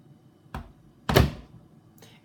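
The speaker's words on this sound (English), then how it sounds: "So if we just close the door" An LG True Steam washing machine door is shut with a solid, car-like thunk, preceded by a lighter knock and followed by a faint later tap, all close and alone without speech.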